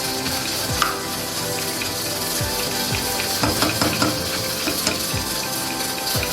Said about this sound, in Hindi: इसे भी गोल्डन फ्राई करेंगे लहसुन अदरक के पेस्ट को